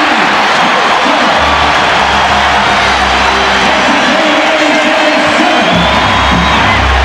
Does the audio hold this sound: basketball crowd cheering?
yes